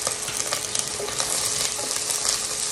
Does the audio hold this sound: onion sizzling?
yes